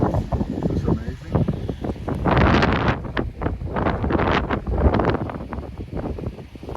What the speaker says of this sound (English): you're playing with a constant 30, 40 mile an hour wind